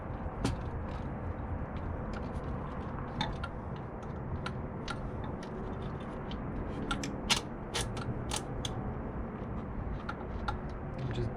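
A ratchet or wrench snugs a bolt on a Banks Ram intake on a 2021 Dodge Ram 2500, with scattered sharp metallic ticks and clicks over a steady background hum, close and moderately loud with no talk.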